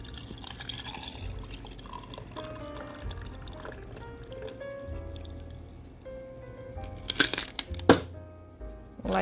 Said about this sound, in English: Shake it up and then pour it into the cup.